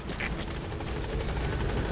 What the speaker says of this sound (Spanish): ver el helicóptero